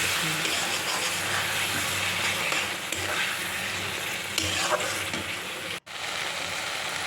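Bhola fish curry sautéing in a pan: a continuous sizzling fry with stirring scrapes, fairly close and even in level, with a brief dropout near the end.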